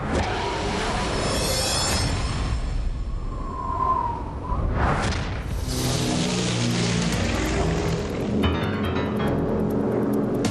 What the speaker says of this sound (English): A huge twin-engine P-38 fighter yanks and banks through a massive furball.